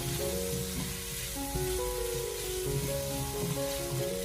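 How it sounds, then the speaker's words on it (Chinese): Pork with a little oyster sauce sizzling and hissing steadily in a wok over low heat, with faint tonal hum layered over the continuous frying; no talking. "慢慢的煸炒， 给它不停的翻炒，将蚝油的酱香味给它翻炒出来"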